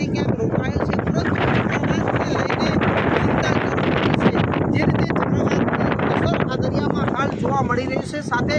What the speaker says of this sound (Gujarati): સાથે ભારે પવન પણ ફૂંકાઈ રહ્યો છે